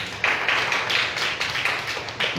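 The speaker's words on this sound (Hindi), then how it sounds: "यीशु के लिए ताली बजा दीजिए साहब।" A congregation at a Hindi-language Christian worship service claps for Jesus, a dense, steady patter of many hands close by with a few sharper accents, continuing without talk.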